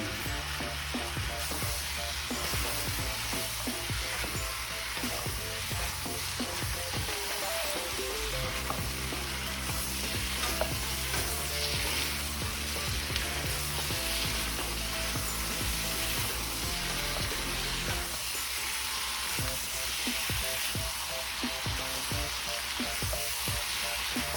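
Udon noodles stir-frying in a hot pan, with a steady loud sizzle and frying hiss plus intermittent scraping and stirring clatter throughout.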